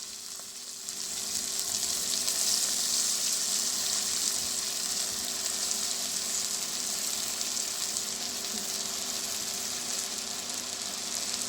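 Fenugreek leaves and tomatoes frying in a pan for aloo methi, a steady, even sizzle that swells in after a quiet start and holds at moderate loudness throughout, with no voices.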